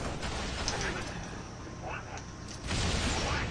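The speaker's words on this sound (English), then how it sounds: "Ooh, explosions!" Gunfire and explosions from the video game Halo: Reach, a busy battle din of shots and blasts with a heavier burst near the end, under a faint voice.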